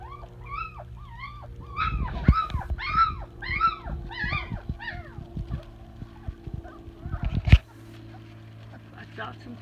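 Puppies whimper and squeal in a run of high, rising cries, close and fairly loud, with a person's voice talking to them and a sharp knock near the end.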